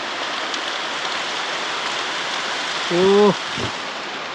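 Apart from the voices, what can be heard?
rain falling with wind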